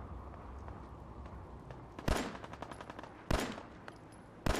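Minigun fire in a wasteland video game comes in three short, sharp bursts spaced about a second apart over a quiet, faint background, with no talking.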